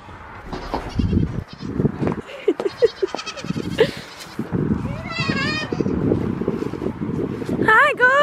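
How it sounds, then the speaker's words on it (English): Goats bleat several times nearby, wavering cries rising above a person talking, with shuffling and rustling in between. "You want to let the goats out or what do you want to do?"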